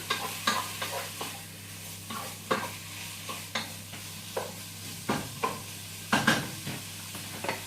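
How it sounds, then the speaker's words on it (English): Beef for a Thai panang curry frying in a pan, a steady quiet sizzle broken by repeated scraping stirs every half second or so, close up with no voices. "we've got the beef in. Going to fry that off nicely."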